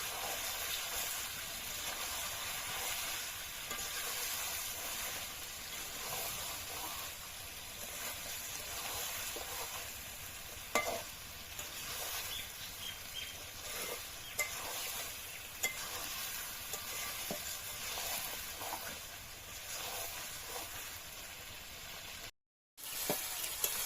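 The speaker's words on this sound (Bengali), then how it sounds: "বন্ধুরা মশলা দেওয়ার পরে আমি আবারও 7 মিনিট কষিয়ে নিয়েছি, মাংস দিয়ে তেল ছেড়ে দিয়েছে" Chicken curry meat cooks down with spices in released oil, giving a steady, faint sizzle and frying hiss that runs throughout, with occasional soft stirring scrapes.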